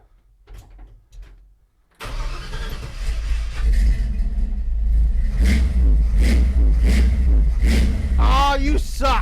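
A car engine starts after a few quiet knocks and is revved repeatedly, rising and falling in loud, close surges, while people talk over it.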